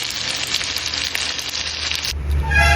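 Fish sizzles and crackles steadily in a hot frying pan, a close, continuous hiss of spitting oil that gives way to a deeper rumble and fewer scattered pops at the end.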